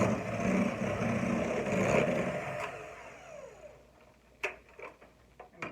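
An electric mixer beats cream cheese, vanilla and sugar until creamy, a steady whirring drone for about three seconds, then the motor stops and a few sharp knocks and clatters follow.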